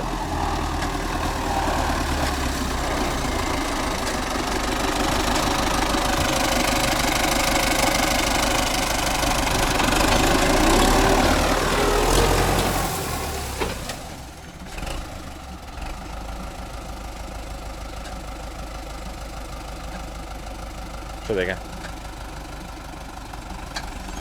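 Small tractor engine idling close by, a steady loud rumble with a knocking beat that drops away sharply about halfway through, leaving a quieter low hum.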